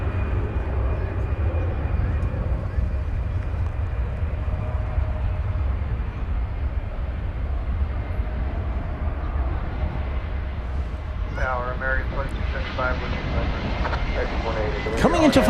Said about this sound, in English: an American flight from Ontario, California. It's an Airbus A321, flight 1833.